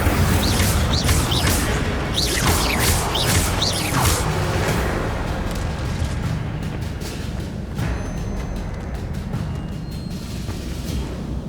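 An Incendio fire spell cast in Hogwarts Legacy gives whooshing, sweeping bursts and booming impacts early on, then fades into a lower rumble of game effects; no one speaks.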